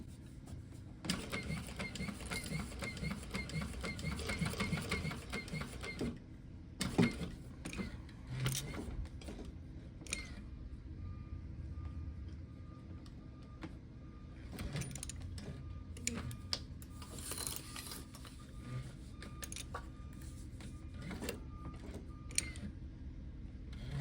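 A Marathon sewing machine stitching and backstitching a pencil pouch, whirring in bursts with short pauses and mechanical clicks, close and fairly quiet.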